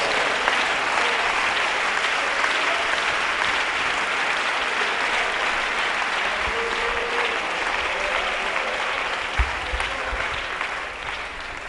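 A church congregation applauds steadily at a religious sermon, a thick continuous wash of clapping lasting over ten seconds with a few low thumps, no one speaking over it.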